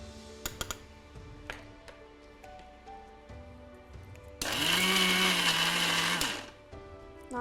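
A mixer grinder grinds coarsely ground lentils with jaggery, a loud steady whirring burst of about two seconds that starts and stops abruptly, with quieter kitchen sounds before it.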